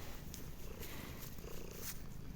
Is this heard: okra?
no